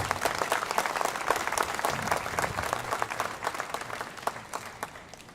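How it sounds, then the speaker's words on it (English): Crowd applauding the Aspen Fire Department honor guard at an outdoor 9/11 remembrance ceremony in the rain, a dense, steady patter of many hands clapping that carries on throughout before tapering slightly. "One more big round of applause for the honor guard, please."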